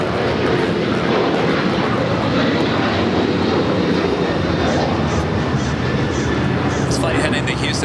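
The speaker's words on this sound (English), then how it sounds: "Flight heading to Houston, Texas. United Airlines flight 742 and a 737-900ER." United Airlines Boeing 737-900ER jet bound for Houston at Los Angeles International Airport, a loud, continuous engine roar filling the whole stretch with a steady broadband rush.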